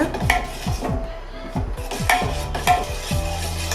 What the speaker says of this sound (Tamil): இந்த மாதிரி கிண்டிக்கிட்டே இருந்தீங்கன்னா திக்கான பதம் வந்துடும்